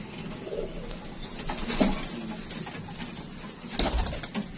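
Pigeons coo softly in a few low, rolling calls over a quiet background, with a louder cooing burst near the end.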